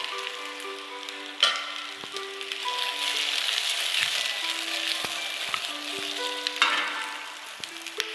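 Capsicum and onion sizzle steadily in a hot kadhai, a dense continuous frying hiss with a few sharp clinks of a utensil against the pan, no voices.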